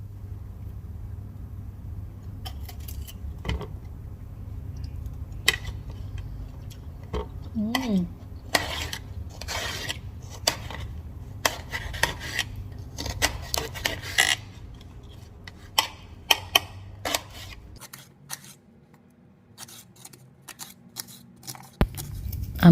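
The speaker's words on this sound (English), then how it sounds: "Now I'm gonna cut mangoes for dal." Raw mangoes being cut for dal in a home kitchen, a series of faint, irregular crisp chopping and scraping taps against a low background hum that drops out near the end.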